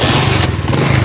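A tractor engine runs loud and close just after starting, a rough, throbbing diesel chug lasting about a second with no one talking.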